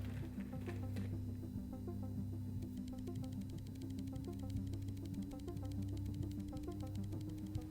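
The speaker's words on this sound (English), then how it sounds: "we need to do sine wave amplifier set to 5 with the frequency of 500" A steady electronic sine-wave tone from an amplifier set to 500 Hz in the video game Stories Untold, a continuous even hum running throughout with faint crackly clicks layered over it and no speech.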